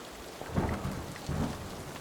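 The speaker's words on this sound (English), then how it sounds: "the storm wailing" Heavy rain pours steadily while thunder rumbles twice, swelling and fading, with no voices over the storm.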